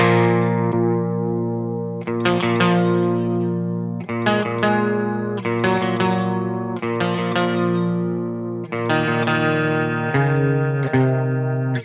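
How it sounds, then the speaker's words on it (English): Electric guitar through a PRS Mark Tremonti MT100 amp, clean channel, with a chorus effect in front of the amp, playing a series of sustained shimmering chords, steady, each ringing out over about twelve seconds. "if I put now chorus in front, it's in front of the amp"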